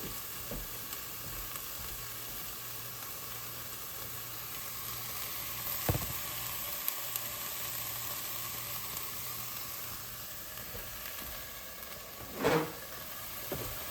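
Onions and celery sizzle softly in a pan on the stove, a quiet, even frying hiss throughout, broken by a few light clinks of a spoon against the pan.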